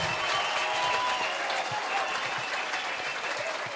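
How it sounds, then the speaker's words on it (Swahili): Worshippers at a church service applaud for Jesus, a sustained wash of fairly distant clapping with a faint murmur of voices beneath. "Waambie wapigie Yesu makofi."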